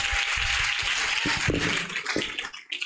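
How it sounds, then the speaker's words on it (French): A church congregation claps for Jesus in a steady wash of dense applause, with scattered cheers mixed in, before the clapping thins out and fades near the end. "Can we clap again for Jesus?"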